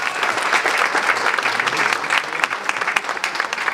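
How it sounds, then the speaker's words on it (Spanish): A crowd gathered at a governor's public event in Tecate gives loud, dense applause, with steady clapping holding strong for the whole stretch. "Por favor, fuerte el aplauso para él."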